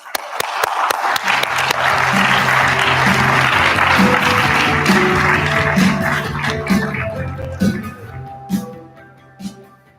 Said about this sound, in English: please join me in giving Alicia a big round of applause and welcome